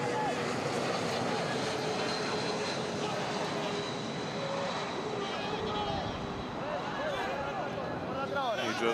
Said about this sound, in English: A plane.